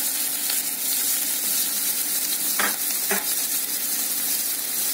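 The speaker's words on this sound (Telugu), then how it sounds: "ఆవాలు సౌండ్లు వస్తున్నాయి కదా, దీంట్లో మనం కరివేపాకు వేసేసేద్దాం" Mustard seeds and curry leaves crackling in hot oil, a dense steady sizzle with a couple of sharper pops and stirring knocks near the middle, no speech.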